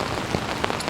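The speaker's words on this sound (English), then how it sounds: "Kenzo doesn't seem to mind the rain too much, but it is coming down quite heavy right now." Heavy rain drums steadily on a camping tarp, a dense close patter with scattered louder drops and no breaks.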